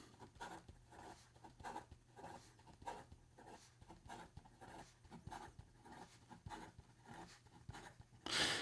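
Extra fine nib of a Benu Skulls & Roses fountain pen scratching quickly across paper, faint rapid strokes in irregular bursts, very close and quiet, ending in a brief louder rustle.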